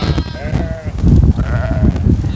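Sheep and young lambs, less than a month old, bleat loudly and close by on a small farm during lambing season, with overlapping wavering calls in quick succession.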